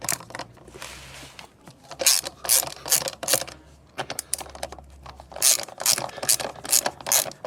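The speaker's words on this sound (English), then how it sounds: "Now we're going to undo the rest of the nuts." A ratchet wrench clicks rapidly and repeatedly in close bursts as wheel nuts are undone on a Lambretta scooter, with short pauses between runs of clicking.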